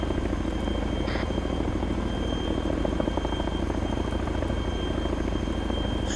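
Military helicopter running nearby with a loud, continuous rotor and engine drone that stays steady throughout, filling the scene without pause.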